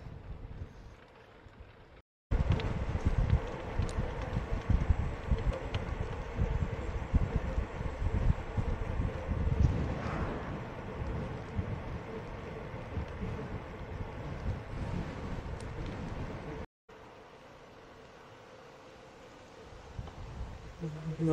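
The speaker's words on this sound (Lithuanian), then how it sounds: "Nu dabar jau šoninis vėjas." A crosswind buffets the microphone of a cyclist riding from Algeciras toward Roche in Spain, making a steady, roaring low rumble that surges and eases, with two brief dropouts and quieter passages at the start and end.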